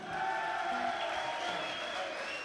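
A crowd at a football cup champions' award party in Bahia, Brazil, applauds and cheers in a steady, dense wash of noise for a bronze-category award winner, with tonal whistle-like lines running through it for the full length.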